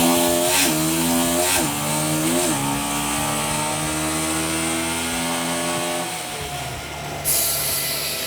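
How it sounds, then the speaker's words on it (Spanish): A Star SMX 150 motorcycle engine revs on a test bench, climbing through several throttle blips before holding a steady high-pitched drone, then easing off near the end. "probar que esté bien la fuerza del motor, que acelere bien la moto"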